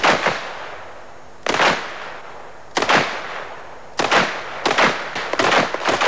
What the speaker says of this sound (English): A continual barrage of shots from three weapons. Pistol, rifle, and submachine gun.